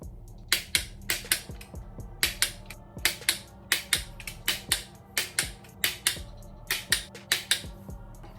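Torque wrench clicking as LS engine bolts are tightened to 50 foot-pounds in a garage, crisp close metallic clicks in quick pairs repeating steadily across the whole stretch.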